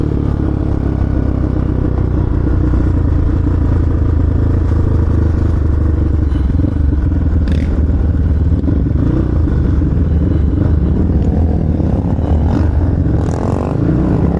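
A Yamaha Raptor 700 ATV exhaust rumbles steadily and loudly on a country ride, the engine drone continuous with clatter and wind throughout.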